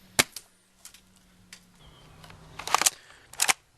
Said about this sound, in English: You just stick the shell in, pump it, you're good to go.